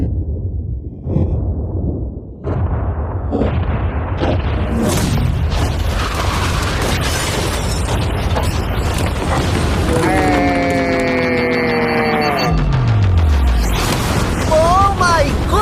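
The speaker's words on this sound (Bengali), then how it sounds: "3 2 1 উড়িয়ে দাও।" A yacht blown up in a staged explosion, a loud sustained rumbling roar with crackling bursts and debris noise that fills the whole stretch, with voices shouting over it.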